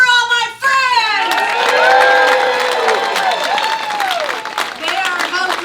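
Birthday party show crowd cheering, whooping and clapping loudly for friends on stage, with high shouts and excited voices layered over sustained applause.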